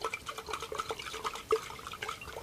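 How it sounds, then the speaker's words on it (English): Water, a couple hundred milliliters, sloshes and splashes as it is shaken around inside a glass beaker, a close, continuous liquid swirl with small clinks and drips, heard alone. "So we're going to pour couple hundred milliliters of water. The volume is really not what counts. And we're going to shake it around."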